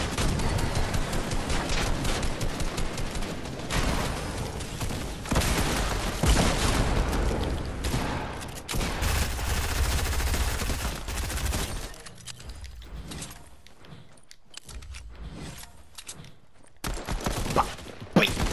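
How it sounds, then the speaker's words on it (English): Video game gunfire rattles in dense, loud bursts of rapid shots for most of the stretch, then thins to scattered pops and quieter gaps near the end. "We're being shot at from west."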